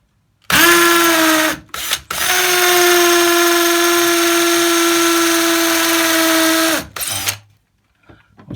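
A power drill fitted with a 6mm masonry bit whines loudly and close, running in a short burst, then a long steady run of about five seconds, then a final brief spin before stopping.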